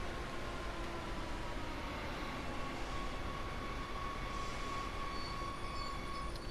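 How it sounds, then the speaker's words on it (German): A Talent 2 train pulls into a station platform in Train Sim World as a steady rolling rumble with faint high squealing tones, fairly quiet and continuous, with no voices. "Zug fährt ein."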